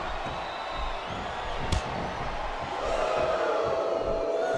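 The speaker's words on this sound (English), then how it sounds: "Now the fans start to cheer for him." Crowd cheering in a Smackdown vs Raw 2007 wrestling match, a steady broad roar from a packed arena with a sharp slam-like hit partway through and the cheer swelling louder near the end.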